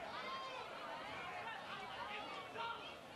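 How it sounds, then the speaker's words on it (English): Spectators murmur and chatter at a 5A high school baseball state championship game, a steady distant crowd babble with a commentator's voice over it. "You hear the crowd."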